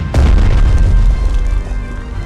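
Heavy artillery shell explosions in the WW2 turn-based tactics game Strategic Mind: Fight for Freedom, opening with one sharp loud blast that rolls into a long, deep rumbling decay.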